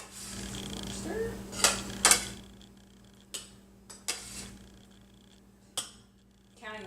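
Spinach ricotta ravioli and sauce are scraped from a pan into bowls, with a series of scattered metallic scrapes and clinks of utensil against cookware over a low kitchen hum.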